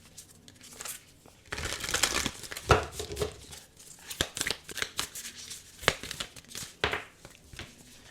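Tarot cards being shuffled by hand, a steady run of papery riffles, crinkles and soft slaps, close and fairly quiet, with no talking.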